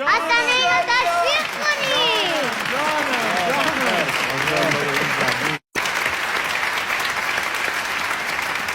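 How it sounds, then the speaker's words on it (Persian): Audience applause for a young child performer at a gathering, loud and sustained, mixed with children's voices and chatter, cutting out briefly before the clapping resumes. "اینو تشویق کنید"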